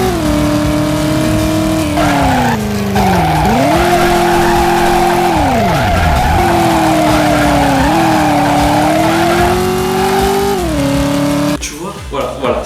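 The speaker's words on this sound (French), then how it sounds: "C'était un jeu où tu pouvais conduire dans une ville." A car drives through a city in the 1990s video game Driver, its engine droning and rising and falling with revs, tires squealing through long skids, loud and continuous until a brief drop near the end.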